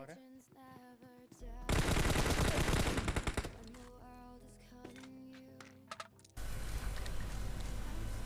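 Rapid automatic gunfire rattles in a PUBG Mobile match, loud bursts of dense shots alternating with quieter game sounds and mechanical clicks, then another sustained burst at the end.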